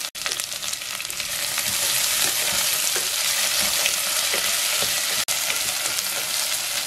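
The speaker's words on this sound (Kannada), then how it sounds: "ಕ್ಯಾರೆಟ್ ಹಾಕ್ತಾ ಇದ್ದೀನಿ, ಬೀನ್ಸು, ಕರಿಬೇವು, ಜೊತೆಗೆ ಆಲೂಗಡ್ಡೆ, ಇದೊಂದು 2 ನಿಮಿಷ ಹುರ್ಕೋಬೇಕು" Carrots, beans, curry leaves and potato frying in a pan, a steady bright sizzle and crackle running throughout with small spatter pops, close and loud, briefly cut out near the start and again late on.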